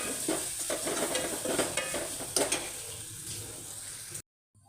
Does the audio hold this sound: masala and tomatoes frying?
yes